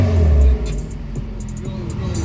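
Acura Integra engine on a cold start, giving a brief deep rev in the first half-second and then settling into a steady low idle rumble alone.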